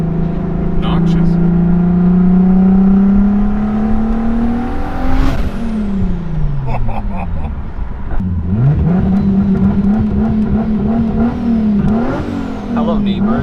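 Turbocharged VR6 engine in an MK4 GTI fitted with a G30-900 turbo, revving loudly up and down in several pulls with a rising whine and whoosh, while people talk over it.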